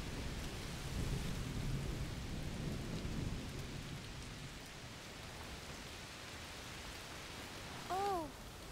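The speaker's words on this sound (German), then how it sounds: "Oh, es regnet ganz schön doll." Heavy rain with thunder in the video game A Plague Tale: Requiem: a steady, dense rain hiss with low thunder rumbling early on, and a short tonal sound near the end.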